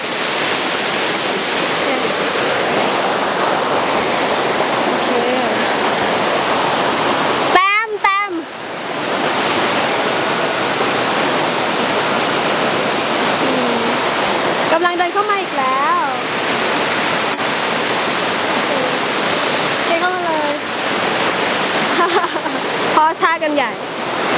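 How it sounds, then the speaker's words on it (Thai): Steady rushing water pours continuously from a nearby waterfall, Kaeng Nyui Falls near Vang Vieng, Laos, with a few brief breaks where a voice talks over the roar. "เจอน้ำตก"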